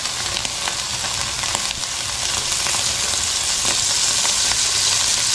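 Food sizzles and fries steadily in a little cooking oil in a pan while vegetables are cooked, a dense, continuous crackle with occasional sharper pops, close and fairly loud throughout.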